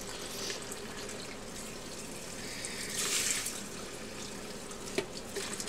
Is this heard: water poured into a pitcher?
yes